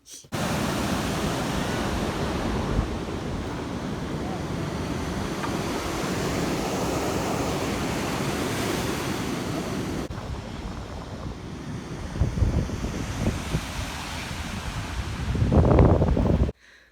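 Waves at a beach, a continuous wash of surf noise mixed with strong wind on the microphone, followed by rougher gusty bursts near the end.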